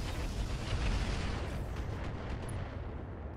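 Mech weapons pound an urban tank in the Roguetech mod of Battletech, a quiet, continuous low rumble of distant impacts and explosions with no distinct individual shots.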